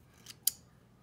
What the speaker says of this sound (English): And again, the scissors here kind of unfold, and you can kind of see them here.